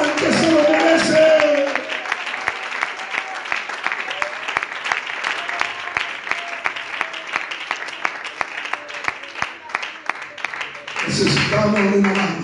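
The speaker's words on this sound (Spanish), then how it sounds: "Denle un aplauso al que se lo merece." A church congregation applauds at a Spanish-language sermon, a dense burst of many hands clapping, briefly mixed with voices at the start and end.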